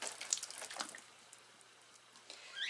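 Water trickles and drips from a potted Philodendron Dark Lord after watering, faint soft patters and splashes in a quiet room, with a few small drips near the end.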